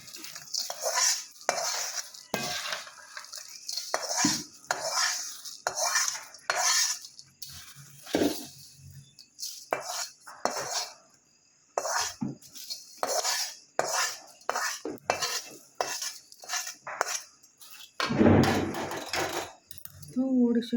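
A spoon scrapes and clinks repeatedly against a pan while puffed rice chivda is tossed with a tempering, rhythmic metallic stirring strokes close up, with someone talking over it.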